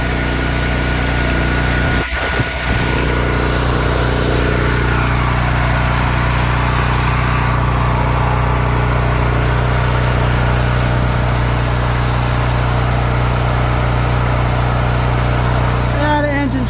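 A Honda portable generator engine runs steadily at idle, a continuous close drone with slight vibration, and a brief knock sounds early on.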